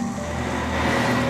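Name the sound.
ice resurfacing machine shaving ice off an ice rink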